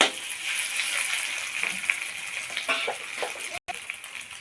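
Pangash and tengra fish fry in hot oil with a continuous bright sizzle and occasional crackling pops, close and steady, briefly cut by a short silent gap near the end.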